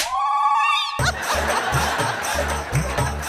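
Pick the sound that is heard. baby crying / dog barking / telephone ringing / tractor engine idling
telephone ringing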